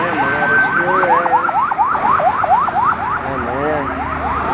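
An ambulance siren escorting a passing convoy wails in a fast, steady up-and-down yelp, loud and close, with a lower tone beneath it and traffic noise around it.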